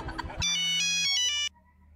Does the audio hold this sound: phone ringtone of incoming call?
yes